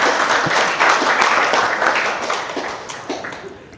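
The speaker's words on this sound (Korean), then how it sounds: "기획실 교무님들께 박수 한번 주시면 고맙겠습니다." Congregation applauding at a Won Buddhist special prayer service, a dense steady wash of many hands clapping that slowly thins and fades toward the end.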